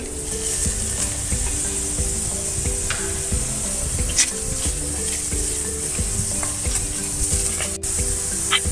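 Onion and tomato fry in a pan for millet pulao, making a continuous close sizzle broken by frequent spatula scrapes and stirring.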